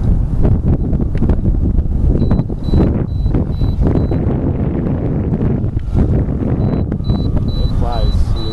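Strong, steady wind roars across the microphone at an RC flying field during the maiden flight of an E-flite Mini Pulse XT plane, loud rumbling gusts throughout with faint engine whine and a brief voice underneath.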